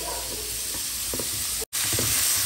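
Rabbit meat and vegetables sizzle steadily as they brown in a pan for a cream-sauce dish, a close, continuous frying hiss with faint stirring scrapes and one brief dropout.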